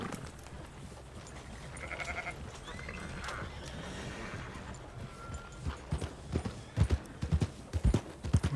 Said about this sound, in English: Let's see how far this horse will run.